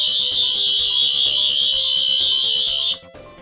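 Classic sound effect from a 14th Doctor Doctor Who sonic screwdriver toy in its green setting: a loud, steady high-pitched electronic whine that holds for about three seconds, then cuts off abruptly.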